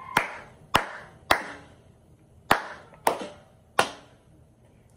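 Six sharp claps spaced unevenly, echoing a drummed rhythm in a children's cartoon with Maisy, each crack clear and alone with quiet gaps between.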